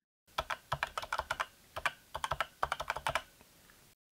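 Close, brisk typing on a keyboard with an aluminium build, the keystrokes falling in quick irregular bursts with short pauses between them; no voices.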